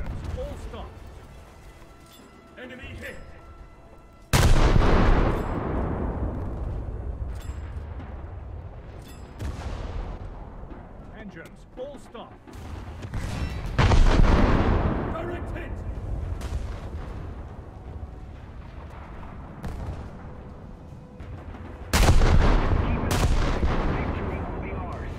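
Naval guns thunder from warships in World of Warships, with a cruiser's salvos booming heavily alongside shell impacts; loud broadband blasts recur at intervals over a continuous rumbling battle background.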